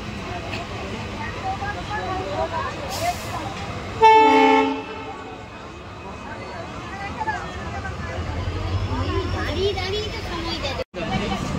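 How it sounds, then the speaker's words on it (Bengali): A passing train near Howrah, India blows a loud, brief horn blast partway through, over a steady rumble of rolling wagons, with faint talk in the background. "তো আরেকটা ট্রেন পাস করছে।"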